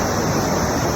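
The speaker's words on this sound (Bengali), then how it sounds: "আর বয়ে চলা এই পাহাড়ি নদী," A mountain river rushes steadily in a dense, unbroken roar that stays loud and close throughout.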